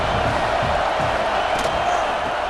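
Football stadium crowd roaring on a big third down in support of the defense, a steady dense wash of cheering and noise filling the whole moment.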